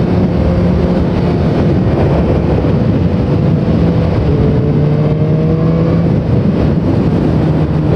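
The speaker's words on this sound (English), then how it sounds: "I just kicked it up and it got stuck in neutral, over-revved, and then jumped out" A 2015 BMW S1000R motorcycle engine stuck in neutral over-revs with a loud, sustained, high-pitched roar close by. The pitch wavers and climbs slightly throughout.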